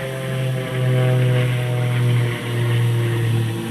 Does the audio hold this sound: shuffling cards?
no